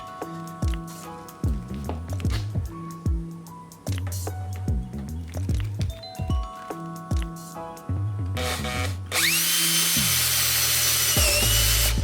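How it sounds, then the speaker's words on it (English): A power drill whirs in repeated short bursts driving screws into a garden bed, pitch rising and falling as it drives in, ending with a louder, sustained high whine. "we switched from the hammer and nails to the almighty drill."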